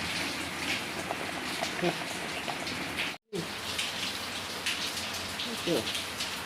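Steady rain falling outdoors during a monsoon shower, a dense even patter of drops on surfaces, with voices talking faintly in the background and one brief dropout midway.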